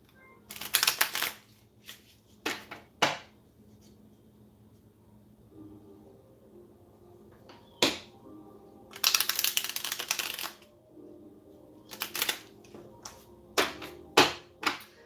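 Tarot card deck being shuffled by hand, close up: irregular bursts of riffling and flicking cards separated by quiet pauses, with a faint low hum in the background.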